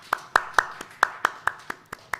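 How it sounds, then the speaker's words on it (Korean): A few people clapping at a Korean church service, sparse and uneven, about ten distinct claps over two seconds, fairly close with no talking. "박수로 우리 축복하도록 하겠습니다"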